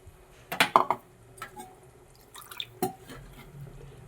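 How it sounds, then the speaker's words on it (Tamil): Water goes into a pot of mutton curry in a home kitchen: a few short splashes and drips with a light clink of metal, set apart by quieter pauses. "இப்போ இந்த குழம்புக்கு தேவையான நம்ம தண்ணி ஊற்றிக்கிட்டோம்."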